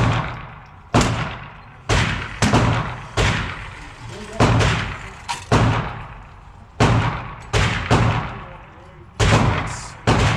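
Pistol shots fired at a target about 10 yards away on a range, roughly twenty sharp, loud reports in quick, fairly even succession, each with a brief echoing tail.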